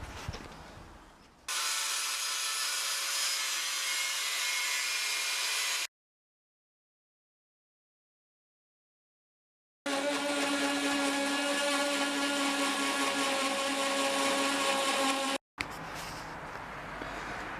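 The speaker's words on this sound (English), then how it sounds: "So, just need to trim this to size now." A power tool cuts a steel repair panel to size for a Mk1 Volkswagen Jetta, a steady high whining grind in two long bursts separated by a few seconds of silence, close and loud.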